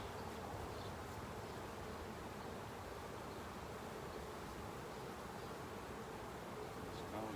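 A honeybee colony at least ten frames strong hums in an open hive during inspection, a dense, continuous buzz that is close and even, with soft rustling and no clear talking.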